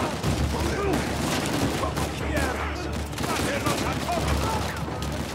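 Gunfire in the video game Uncharted 4, dense rapid shots and bursts in a steady stream throughout, with a voice talking over the action.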